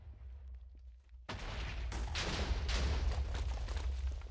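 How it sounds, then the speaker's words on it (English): A sudden loud burst at about one second, followed by a sustained roar of rumbling, crackling blasts in quick succession, dense and close, from explosions in Minecraft. "let's watch these explosions happen here"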